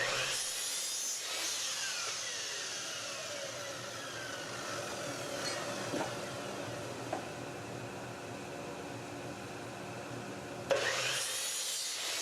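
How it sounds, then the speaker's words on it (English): A miter saw cuts pieces of wood for a mirror frame, a sustained close whine and rasp of blade through wood lasting about ten seconds, with a spin-down and a final clunk at the end. "I'm mitering both sides of the pieces of wood"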